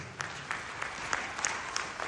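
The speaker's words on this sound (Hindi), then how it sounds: "एक बार जोरदार तालियां बीबी सिंह सर की।" Brisk clapping from an audience honouring a trainer, close and steady with dense, even claps across a short burst.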